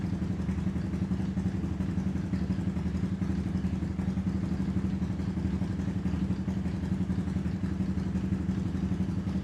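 A Suzuki LTZ 250 street quad's engine runs steadily at idle with a throaty, rhythmic low putter and light mechanical clatter, close and continuous without talk.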